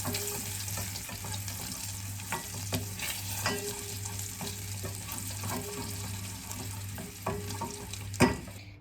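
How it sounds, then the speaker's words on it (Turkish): Dried mint is stirred into hot frying oil, giving a close, steady sizzle with soft spoon scrapes and clicks and a low hum behind, and no talking. "Yağım iyice kızardı arkadaşlar. Böyle bir tatlı kaşığı gelecek kadar nane ekliyorum."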